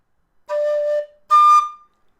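A D tin whistle plays two clear sustained notes alone, the D in the second octave and then the higher D in the third octave, each held for about half a second with a short gap between.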